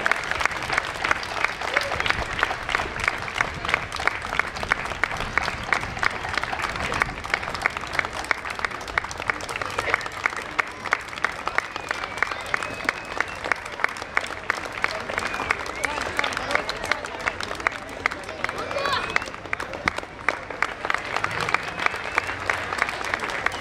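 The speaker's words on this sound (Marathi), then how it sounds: "जोरदार टाळ्या वाजवून त्यांना प्रोत्साहन द्या." Sustained, loud applause from a gymnasium audience cheering gymnasts after a pommel horse routine at a centenary celebration event, dense steady clapping filling the whole stretch with crowd noise mixed in.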